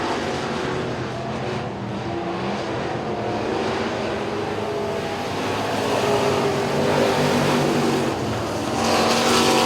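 Modified Street race cars in an 8-lap heat race at Duck River Raceway Park, a steady dense engine roar from several cars filling the clip, swelling slightly louder toward the end, with no talk.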